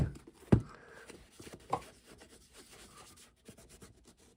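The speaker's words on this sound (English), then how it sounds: "And for this, I will use a polishing rag." A polishing rag works cream shoe polish into a leather shoe, making soft scattered rubbing and brushing strokes with a few sharper scuffs in a quiet room.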